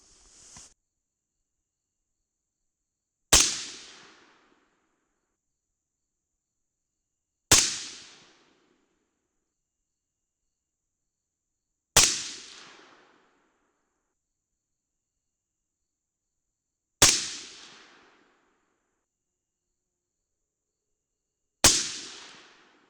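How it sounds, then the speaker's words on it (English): Five suppressed shots from a .22 Nosler rifle fired at a range with a chronograph set up, each a sharp crack with a short decaying tail, spaced roughly four to five seconds apart, loud and with no talk. "So now, here's with the chronograph and suppressor. This is probably going to be our last 5 rounds."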